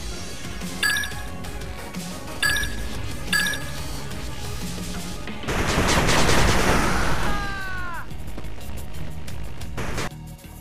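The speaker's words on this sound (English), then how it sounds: "Machine gun turret under attack." A machine gun turret in the game 8-Bit Armies fires in rapid bursts, with sharp metallic dings early on and then a dense sustained rattle of gunfire in the middle before it tapers off.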